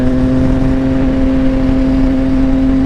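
A CFMOTO 675NK motorcycle runs in sixth gear, its engine holding a loud, steady, close drone with a strong humming tone and no voices over it.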